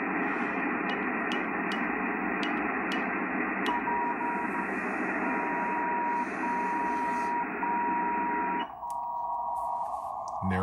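CW Morse code signal received on an Icom radio, a steady keyed tone over a bed of band hiss and noise, holding for most of the span before the receiver setting changes near the end.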